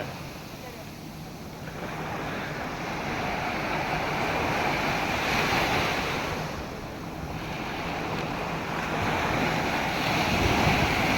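Waves roll onto a sandy beach in a steady broad wash that swells and recedes in slow surges, with wind rumbling against the microphone throughout.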